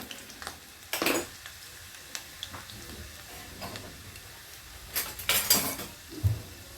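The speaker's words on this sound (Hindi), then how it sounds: "ये तेल मैंने गरम करने रखा है। इसमें हम ये लहसुन जो हमने काट के रखी थी वो डालेंगे" Chopped garlic hits hot oil in a pan for chaulai sabji, giving a soft sizzle with spoon scrapes and clinks, and louder bursts of stirring toward the end.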